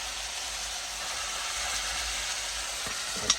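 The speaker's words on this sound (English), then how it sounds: "look a sizzling sound there" Curry goat sizzles in a pot over an outdoor wood fire, a steady, dense frying hiss that holds close and even, with a brief knock near the end.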